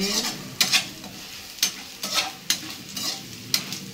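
Tomatoes sizzle steadily in a hot pan while a spatula stirs and scrapes at intervals, producing regular clattering bursts over the frying hiss.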